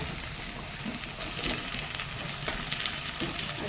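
Raw banana and potato pieces frying in hot oil in a pan, a steady close sizzle with faint stirring clatter running throughout, no voices.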